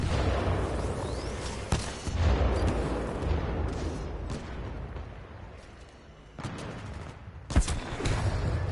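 Gunfire in the sci-fi shooter Titanfall 2, dense bursts and sharp booming shots over a loud, constant battlefield rumble, close and heavy, with a few standout cracks.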